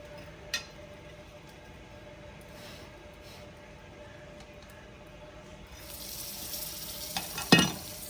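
Hot stone tadka dropped into ghee with garlic in a Pathani village kitchen: a quiet background that swells into a rising sizzle, then one loud, sharp hissing burst near the end.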